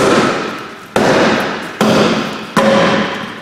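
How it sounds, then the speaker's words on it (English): A stuck rear wheel on a Volvo V50 is hammered loose with three loud, close, heavy thuds spaced under a second apart, each ringing out and decaying before the next blow. "I'm going to smash this wheel off because it's going to be stuck"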